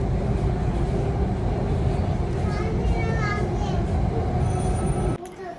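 Metro train ride, a steady loud rumble of the carriage rolling along the track, with faint voices in the background, ending abruptly as the noise drops away.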